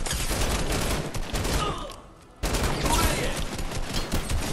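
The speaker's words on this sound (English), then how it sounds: "Shooting." Gunfire in the video game Fortnite, rapid loud bursts of automatic shots that drop out briefly and then resume just as dense.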